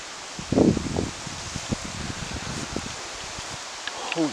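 Cold wind blowing outdoors at night during van camping, a steady broadband rush with rustling gusts, and people talking briefly over it.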